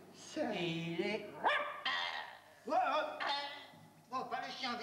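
A dog barks and yips in a series of four or five vocalizations, some drawn out into whiny howls, close and fairly clear against a quiet background.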